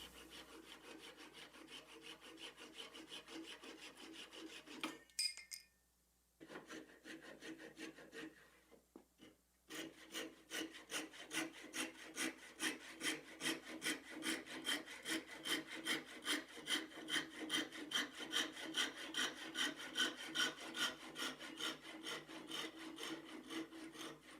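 A hand saw cuts excess Wenge wood off a custom guitar headstock, with close, rhythmic rasping strokes that pause briefly, then resume in a fast, steady back-and-forth series.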